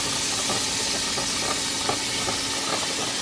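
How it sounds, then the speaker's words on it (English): Butter sizzling in a hot pan, with a loud, dense steady hiss close by and faint crackles and pops through it, with no talk. "I'm putting the butter in"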